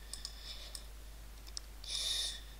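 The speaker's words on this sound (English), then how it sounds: "you want to right click that, open with WinRAR Archiver" A few light computer mouse clicks, small and close, scattered over a quiet background with a steady electrical hum.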